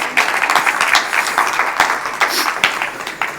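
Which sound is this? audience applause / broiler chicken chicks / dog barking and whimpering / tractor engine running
audience applause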